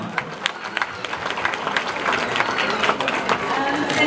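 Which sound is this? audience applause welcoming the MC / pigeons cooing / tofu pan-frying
audience applause welcoming the MC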